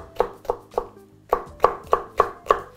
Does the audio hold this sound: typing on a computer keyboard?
no